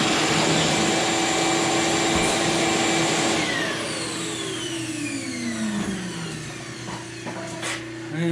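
A vacuum cleaner runs continuously with a loud, steady roaring whine, its pitch drifting slightly as it works, with no talking over it.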